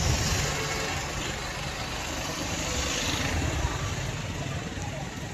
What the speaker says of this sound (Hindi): बाइक काफ़ी चल रही हैं।